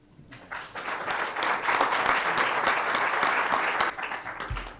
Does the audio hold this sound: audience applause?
yes